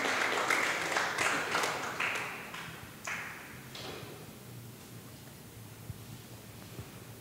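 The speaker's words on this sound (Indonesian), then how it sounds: "Beri sorak-sorai bagi Tuhan." A church congregation claps and applauds, a dense burst of clapping that fades after a few seconds to a quiet room with scattered taps.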